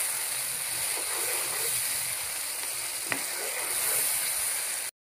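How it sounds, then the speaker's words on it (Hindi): Masala of turmeric, coriander powder and crushed red chilli frying in oil, a steady hissing sizzle close up with one sharp click midway, ending abruptly. "मैं इस मसाले को भून लूँगा अच्छी तरह"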